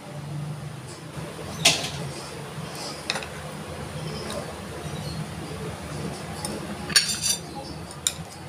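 Eggplant salad tossed with smoked fish in a bowl, a few sharp utensil clinks and scrapes at scattered moments over quiet kitchen background.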